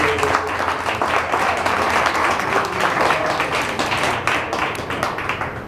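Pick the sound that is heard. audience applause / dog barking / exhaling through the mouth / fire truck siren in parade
audience applause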